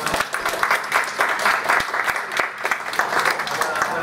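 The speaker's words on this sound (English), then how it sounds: "can we give them a round of applause, everyone?" An audience applauds a panel on green jobs and sustainable development, clapping fairly loud and steady at close range, with crisp individual claps and a faint voice mixed in.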